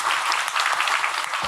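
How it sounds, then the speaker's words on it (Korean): An audience at a Korean lecture talk applauds a father in the crowd, a dense, loud wash of clapping that holds steady through the short burst. "아버님에게 박수 한번 주십시오."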